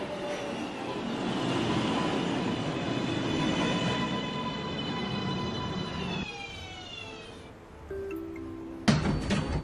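A NYC subway 1 train pulls into Lincoln Center station with a loud, steady rumble and tonal whine from the motors, the pitch shifting as it slows and brakes, then a brief sharp squeal and clatter near the end.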